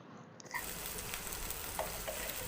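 Cluster beans tipped into hot oil tempering for a Malvani-style vegetable dish, sparking a sudden loud sizzle after a quiet moment that then holds steady and close.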